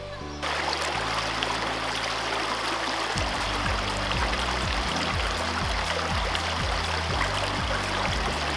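Creek at Spring Gully campsite flowing in a constant, loud broadband rush of water heard up close with no voices, while low tonal sounds pulse in the background.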